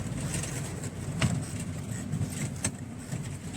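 A UAZ Buchanka van's engine drones at a steady, moderate level while driving, a low rumbling hum with faint ticks and rattles, heard from inside the cabin without talk.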